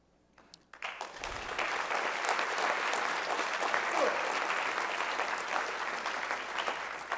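Crowd at a spring ROTC commissioning ceremony bursts into applause for a newly commissioned second lieutenant, starting with a few scattered claps and quickly swelling into dense, steady clapping that continues evenly for several seconds.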